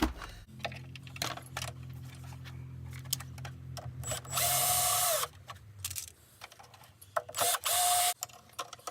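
A cordless screwdriver drill drives screws while reassembling a Gotway electric unicycle, giving two loud whirring bursts around a steady motor hum, with clicks and handling noises of plastic parts in between.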